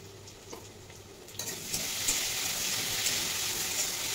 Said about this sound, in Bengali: আবারও ঢেকে একটু ভেজে নেব।